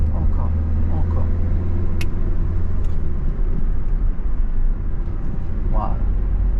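Car accelerating on a road during a driving lesson, a steady low engine and road rumble that stays loud and continuous from inside the cabin, with brief voices over it.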